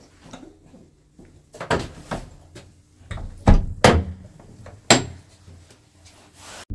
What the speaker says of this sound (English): could you get the door?